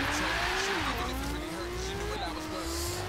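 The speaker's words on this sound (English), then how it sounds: "So the LaFerrari had a better launch than the Bugatti Veyron" LaFerrari and Bugatti Veyron hypercars launching side by side in a race, a loud sustained engine roar with rising pitch sweeps and gear-shift dips, steady and close throughout.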